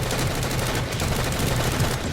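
Rapid automatic gunfire from the PS4 shooter Planetside 2 rattles in a dense, unbroken burst of close, loud shots.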